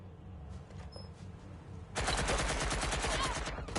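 Rapid automatic gunfire in a PS4 video game bursts in halfway through and continues as a dense, loud rattling stream after a quieter lead-in.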